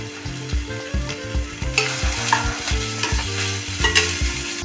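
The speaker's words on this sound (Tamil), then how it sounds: "பச்சை வாசம் போகிற வரைக்கும் வதக்கிக்கலாம்." Chopped ingredients with coriander leaves and curry leaves being sautéed in a pan for a wheat-flour snack, with a steady sizzle of frying and repeated rhythmic scraping of a spoon stirring against the pan, close and loud.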